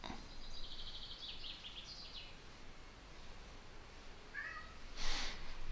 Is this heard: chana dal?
no